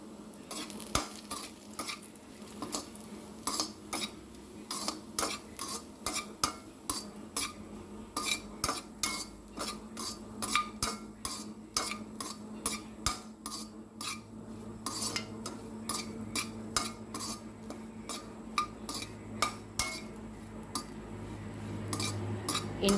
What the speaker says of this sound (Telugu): బ్రెడ్ స్లైసెస్ అన్ని చిన్నగా కట్ చేసి వేయించుకోవాలి.